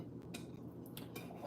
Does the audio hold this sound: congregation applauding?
no